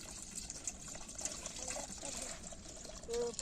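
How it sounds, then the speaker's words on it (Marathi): Water is poured into a pot outdoors on a hillside to cook Maggi noodles: a faint, steady trickle and splash of filling liquid runs throughout, quiet and close, with no speech. "मॅगी बनवायला चालू करूया पहिले आम्ही टाकतो पाणी"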